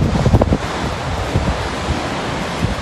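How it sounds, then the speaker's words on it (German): Big Atlantic surf crashing on the coast, a broad continuous roar of breaking waves with a heavier surge near the start, mixed with wind noise buffeting the microphone. "Wir haben atemberaubende Wellen."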